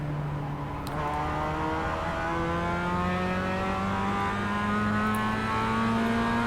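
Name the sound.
race car engine accelerating in video game iRacing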